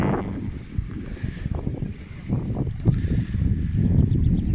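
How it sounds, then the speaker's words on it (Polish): Wind gusts roar against the microphone in uneven waves, loud and close, with boat and water sounds mixed in. "wiatr wieje"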